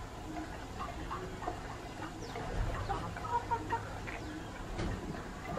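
Bantam chickens with feathered legs cluck softly in a backyard in the morning, a scattered series of faint, close calls over a quiet outdoor background.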